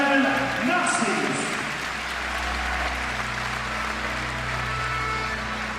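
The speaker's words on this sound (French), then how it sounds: "Mesdames et messieurs, applaudissements à Daniel Narcisse." A handball arena crowd at a Paris SG versus Montpellier match applauds player Daniel Narcisse with steady, dense clapping that holds throughout, loud and sustained, with a commentator's voice over it at the start.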